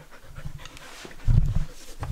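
A dog pants rapidly after finishing its food, close and rhythmic breaths that swell louder midway through the roughly two seconds.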